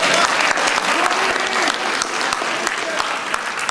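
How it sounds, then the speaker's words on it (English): Loud, sustained clapping from a large crowd at a convention fan-fiction panel, dense and continuous throughout with scattered sharper claps standing out. "Round of applause to yourself."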